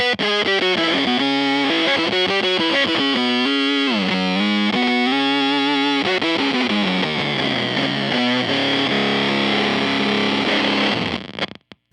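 An electric guitar runs through a Beetronix Swarm octave fuzz pedal set with extra dry signal, loud, gritty, saturated chords and sliding notes ringing continuously before stopping abruptly, with no voices.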